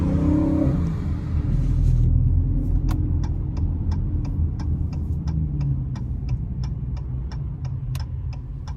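A JDM car at a night car meet rumbles loudly up close, engine note swelling as it revs after a downshift, with a steady rapid ticking running through the second half.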